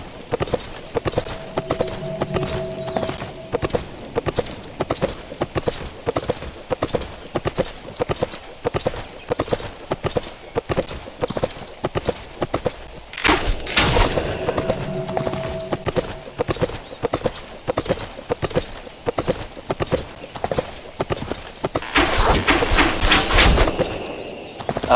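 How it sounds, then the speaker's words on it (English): A horse gallops along in the video game Sacred 2, its hooves pounding in a quick steady clip-clop rhythm throughout, broken by louder bursts of game effects partway through and near the end. "Instead of taking the portal, I'll just go by horse."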